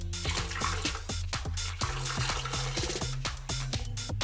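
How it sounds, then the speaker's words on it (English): Water pours into a blender holding chili for a shrimp empanada filling, a close, steady gushing splash that runs without pause for a few seconds. "And then add a little bit of the water."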